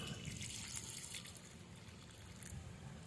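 Water poured gently into a potted aloe vera plant, a soft, faint trickle running steadily under quiet background noise for a few seconds.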